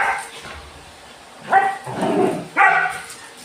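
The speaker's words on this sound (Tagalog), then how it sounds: "Nag-iingay si Mingming sa labas, nag-ihit." A dog barks outdoors in a home setting. Three loud, sharp barks come at irregular gaps, and one of them trails into a longer, rougher bark. A quiet background hum fills the pauses between them.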